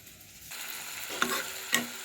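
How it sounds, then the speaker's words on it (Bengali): A soft steady sizzle of tomato and onion frying in a pan, with two brief scraping stirs, close and fairly quiet. "আর এখন আমি টমেটো পেঁয়াজটা ভেজে নিচ্ছি।"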